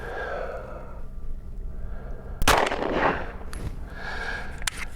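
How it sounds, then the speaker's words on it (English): Pistol shots with a Gideon Optics Judge red dot sight mounted: one sharp, loud report rings out mid-clip, followed by fainter, smaller cracks, with a low rumble of background noise in between. "So 5 more shots,"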